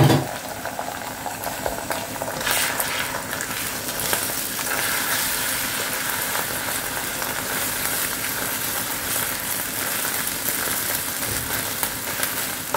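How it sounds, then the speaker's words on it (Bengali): An egg fries in hot oil in a pan as the first step of a home-cooked chow mein, giving a steady, dense sizzle and crackle throughout at moderate volume. "তেলটা গরম হয়ে গেছে, আগে ডিমটাকে ফ্রাই করব, তারপর সবজি।"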